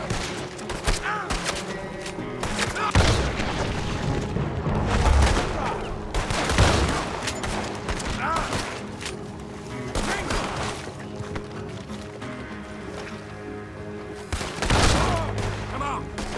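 Sustained gunfire in a Western shootout in Red Dead Redemption 2, with dense volleys of shots and loud booming bursts repeating throughout, while shouting voices come through between the blasts.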